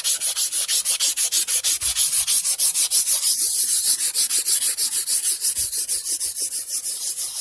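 A rounded-over tile edge is sanded by hand in quick back-and-forth strokes, making a loud, close, rhythmic gritty rasp that repeats evenly throughout with no talking.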